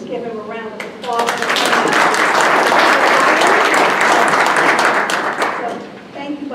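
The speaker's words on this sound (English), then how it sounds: "Please give him a round of applause." A council meeting audience breaks into loud, sustained applause for several seconds, swelling quickly and tapering off, with a voice speaking just before and after.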